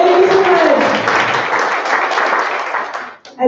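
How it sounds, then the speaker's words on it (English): An audience at a mentorship event claps for mentors, a dense burst of applause that fades toward the end, with a voice briefly heard at the start. "could you stand up and give a round of applause?"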